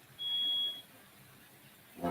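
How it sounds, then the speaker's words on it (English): A smoke alarm in an apartment building gives one thin, high, steady beep lasting about half a second, fairly faint and distant, followed later by a brief muffled bump; nobody speaks. "that's somebody's smoke alarm going off in my building"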